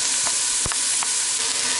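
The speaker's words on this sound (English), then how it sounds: "this has been frying for about 2 to 3 minutes" A steady, loud sizzle of vegetables and spices frying in a hot pan for chili, with a few brief clicks and scrapes of stirring over the constant hiss.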